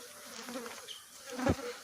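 Flies buzzing close by around horses and donkeys in hot weather, a faint wavering hum that swells briefly near the end.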